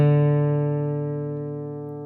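A single guitar note or chord rings out on an instrument played in a bluegrass style, sustaining clearly and fading slowly over about two seconds with no other sound.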